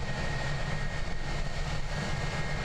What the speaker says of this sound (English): we got the Air New Zealand A320 taxiing towards us as well, which is just about to hold short of Alpha 2